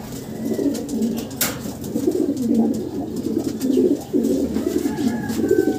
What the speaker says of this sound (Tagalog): Sara, tingnan natin yung kanyang nanalong ibon.